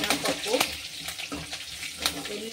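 Mustard seeds, cumin and a little urad dal tempering in hot oil for a cabbage curry give a steady, close crackling sizzle with brief sharp pops throughout.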